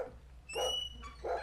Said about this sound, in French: c'est un chien qui aboie, c'est mauvais signe